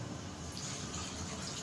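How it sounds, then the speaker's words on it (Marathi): Lukewarm water pours steadily from a container into a wide kadhai holding drumstick and potato curry, making a continuous rushing splash. "आता पाणी घालते मी।"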